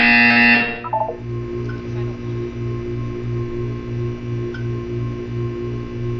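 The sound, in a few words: buzzer sounding in Portal 2 video game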